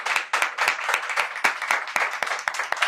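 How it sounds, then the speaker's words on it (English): An audience at a talk-show style session claps for a speaker, a brisk, fairly close patter of hands that runs continuously for a few seconds. "please give a clapping for Pratik"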